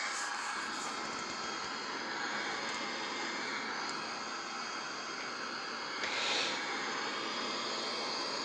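Aircraft engine noise during a turn back toward the airport for approach and landing: a steady, airy jet hum with hiss, constant in level, with a brief swell near the end.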